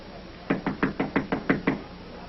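Seven evenly spaced knocks on a door, close and distinct, rap out in a quick steady rhythm with nothing else in the background, in a 1937 film scene.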